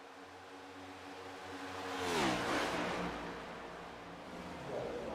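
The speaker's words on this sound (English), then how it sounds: "listen to the great sounds of these cars" Race car engines at a Kansas race, a car approaching and passing with a rising then falling engine whine, moderately loud at its peak over a steady background roar.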